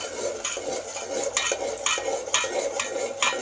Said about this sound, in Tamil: மாவை இப்படி கொஞ்சம் கிண்டிக்கிட்டே இருக்கணும்